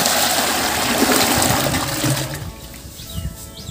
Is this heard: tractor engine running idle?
no